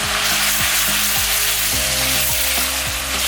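Cooked spaghetti sizzles in a pan of rendered guanciale, a loud, continuous crackling hiss with faint tonal sounds in the background.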